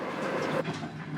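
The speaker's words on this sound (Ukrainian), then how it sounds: "Потяг рушає." A passenger train starting to move at night, a brief low rumble and rolling rail noise heard from inside the carriage.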